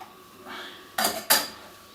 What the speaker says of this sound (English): I'm going to pop my lid on my cocktail shaker.